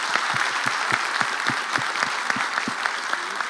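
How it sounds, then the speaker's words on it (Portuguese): Applause from an audience at a management lecture, a moderate crowd clapping with a few sharper nearby claps standing out over the steady wash. "eu quero uma salva de palmas para as Pompeias"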